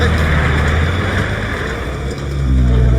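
A car is driven and backed up in a film scene, its engine a loud, steady low rumble that swells again near the end, with no one speaking.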